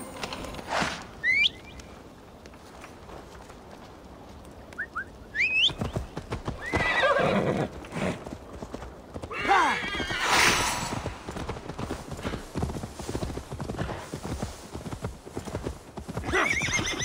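Horse in Assassin's Creed Valhalla gallops with steady clip-clopping hooves, breaking into several sharp neighs and whinnies, loud and close throughout.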